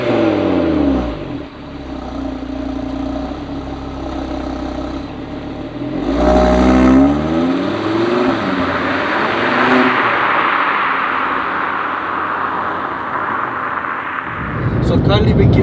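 An Audi RS3 cranks and fires, settling into a loud rumbling idle before the revs rise and hold. A final burst of revving comes near the end, close and strong.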